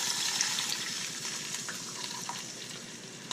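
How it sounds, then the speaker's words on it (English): Two cups of hot water poured onto bouillon cubes in a pot while making a broth, a steady close hissing, splashing rush that continues without a break, with no talk. "I'm going to add in 2 cups of hot water"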